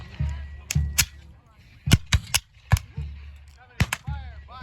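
Musket volleys and howitzer cannon fire at a Civil War reenactment in Union Gap, Washington, come as a string of sharp, irregular cracks and booms at mid distance, with faint voices between the shots.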